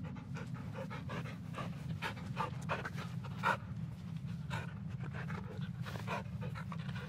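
In the video game Blair Witch, a dog pants steadily and rapidly up close, with quick rhythmic breaths over a low background hum.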